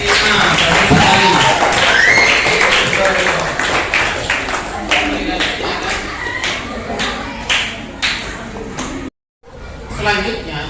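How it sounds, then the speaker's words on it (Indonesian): Applause from a school class group, a dense burst of clapping that gradually thins into scattered claps before a brief pause and a few more. "tepuk tangan buat kelompok 5"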